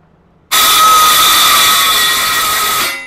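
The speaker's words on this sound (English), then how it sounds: "I got my circular saw. Yeah, it's for wood, but" A wood-cutting circular saw abruptly spins up and screams through aluminum, a loud, harsh, sustained whine that holds steady before tapering at the end.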